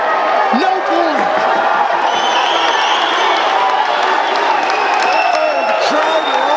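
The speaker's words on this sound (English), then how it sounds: "Oh, the crowd are on their feet." A grappling match crowd roars and cheers continuously at close range, with whoops and a commentator's voice over it.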